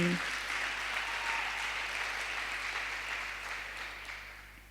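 Congregation applauding inside a church during a Spanish-language sermon, a dense, steady wash of clapping from many hands that fills the whole clip at even loudness and fades slightly toward the end.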